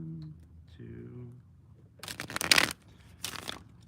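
A deck of cards being shuffled, two quick riffling bursts following a brief spoken voice at the start, the first burst louder and longer than the second.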